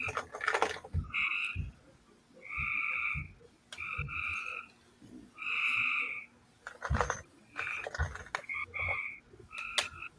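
Frogs croak in repeated bursts, a buzzing, pulsing chorus of several calls a second apart, with clicks and small knocks in between.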